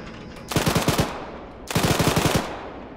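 Gunfire in the Arma 3 military game: two close, loud bursts of rapid automatic fire, each about half a second to a second long, separated by a short pause.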